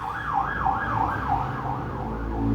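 An ambulance siren wails in a steady rising-and-falling pattern, fairly loud and continuous over low road rumble, with no talking.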